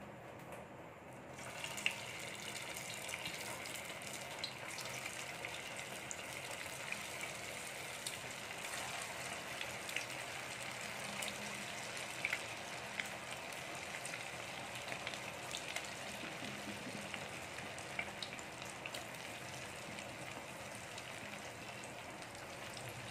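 Snack pieces deep-frying in hot oil for an afternoon tiffin recipe, a continuous bubbling sizzle with scattered pops and crackles, steady and close throughout.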